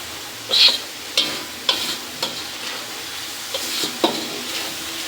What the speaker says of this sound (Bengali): এখন আমি ভালো করে নেড়ে চেড়ে মশলাটা মিশিয়ে নেব।